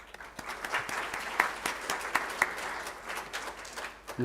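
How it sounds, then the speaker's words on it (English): An audience at a mental health forum gives a round of applause, a steady patter of clapping from many hands in an indoor room, moderately distant and fading slightly toward the end. "Can you all join me in recognising their contribution with a round of applause?"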